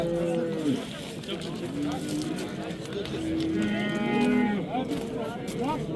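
Cattle mooing at a busy livestock bazaar, several drawn-out moos from nearby animals rising over a constant crowd murmur, with people talking throughout.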